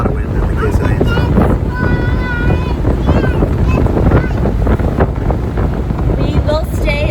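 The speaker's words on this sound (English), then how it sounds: "It's nice to have a little bit of wind in our faces. Or a lot of wind" Loud, steady wind buffets and roars past the open top of an Aston Martin DB9 Volante convertible on a chilly day, unbroken for the whole stretch.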